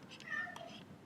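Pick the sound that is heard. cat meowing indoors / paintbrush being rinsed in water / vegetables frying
cat meowing indoors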